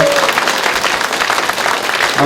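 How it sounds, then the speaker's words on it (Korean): An audience at a talk concert in Damyang greets arriving guests with loud, dense applause and cheering that fills the short stretch from start to finish, close and unbroken. "큰 박수로 환호성으로 환영해 주시기 바랍니다."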